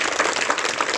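Audience applause at a sports and yoga awareness event in India, a short burst of dense, steady clapping heard alone.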